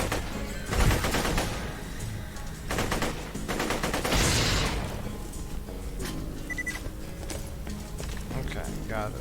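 Rifle fire in Borderlands 2 cracks out in several short bursts of rapid shots spread across the stretch, mid-distance and fairly loud, with someone talking over and between them.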